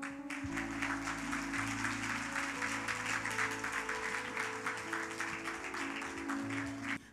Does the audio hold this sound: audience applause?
yes